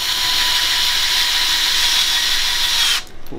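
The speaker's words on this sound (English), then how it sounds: "Get your screw in there." A power driver runs a screw steadily into a vent fitting while installing venting for a Rinnai RUR series tankless water heater, one continuous loud whir for about three seconds that then stops abruptly.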